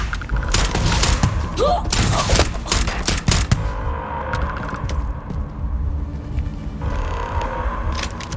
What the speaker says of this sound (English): The EM rifle! Grab it! Now! Stop! What are you doing? EM fire, Captain!